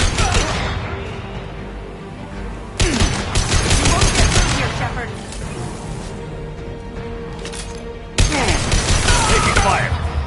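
Heavy gunfire in a sci-fi shooter game (Mass Effect), loud rattling bursts of automatic fire over a droning background, with a voice speaking briefly in the middle of the fighting.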